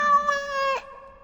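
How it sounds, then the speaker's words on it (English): A cat in Dragon Age: Awakening gives a single clear, drawn-out meow that bends downward near its end, loud and close with nothing else around it. "Oh, look at the cute little kitty."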